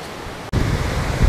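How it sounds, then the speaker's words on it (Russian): Pala U Waterfall cascading at the foot of one of its tiers, a loud, close, steady roar of rushing water that cuts out briefly and then comes back even stronger. "Мы сейчас прямо у подножия этого водопада."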